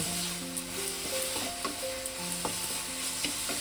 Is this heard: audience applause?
no